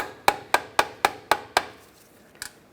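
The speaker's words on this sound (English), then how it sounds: "And then just take a hammer, just give it a tap." A hammer taps a pick into a bellow boot clamp on a 2007-2013 Mini Cooper: six sharp, evenly spaced metallic knocks with short ringing decays, followed after a pause by a fainter seventh tap.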